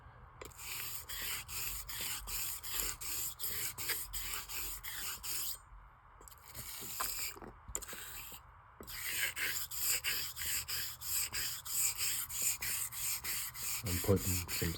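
A straight razor blade honed on a sharpening stone, with steady continuous rubbing strokes that stop briefly a couple of times before resuming, close and moderately loud.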